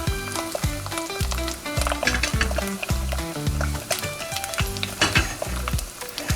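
An egg fries in a stainless steel stockpot, crackling and sizzling steadily and loudly close up, with repeated scraping and tapping from the pan throughout.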